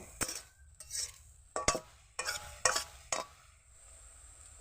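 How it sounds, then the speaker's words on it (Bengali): Pumpkin leaves stir-fried with salt and turmeric in a pan: a series of brisk spatula scrapes and metal clinks over a faint background sizzle, close up with no talking. "তো নুন হলুদে একটু ভালো করে ভেজে নেব"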